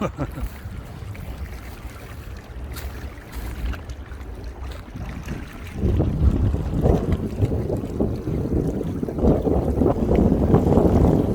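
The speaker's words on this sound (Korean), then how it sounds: "지금 바람이 워낙 세게 부니까" Strong wind at a Han River park buffets the microphone in steady low rumbling gusts, growing louder and rougher about halfway through, with faint water wash underneath.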